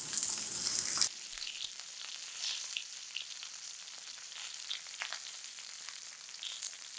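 Steak sears in a hot pan with melting butter, giving a loud, continuous close sizzle and crackle that starts sharply and keeps popping, with no voices.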